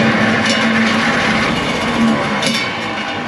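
A 1945 GMC 6X6 truck carrying a Bantam T35 crane, its engine running with a loud, steady, dense rumble and a low hum throughout.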